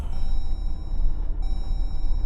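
Seat belt warning chime inside a vehicle hauling an RV, a steady tonal beep running through the whole short stretch over low road rumble, pausing briefly midway and then resuming.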